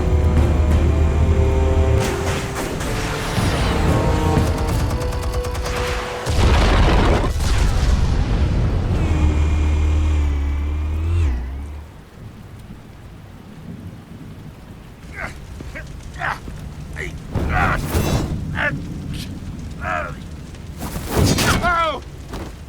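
Explosives detonate in the Batman: The Telltale Series video game, with loud deep booming blasts and rumbling debris that come in two heavy bursts before fading into quieter crackles and scattered impacts.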